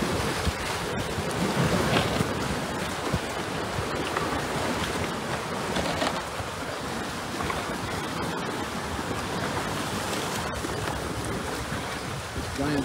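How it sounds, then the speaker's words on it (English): A river ice jam breaking loose, with giant slabs of ice, some only a few inches thick, flowing downstream: a steady, loud rushing of water and grinding ice, with wind buffeting the microphone throughout. "Giant slabs of ice coming through now."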